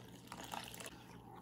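About a cup of water is poured into a dry patty mix in a home kitchen, making a brief, soft trickle against low room noise.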